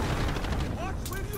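Bursts of gunfire in a shooter video game, loud and close, mixed with game effects and short vocal sounds.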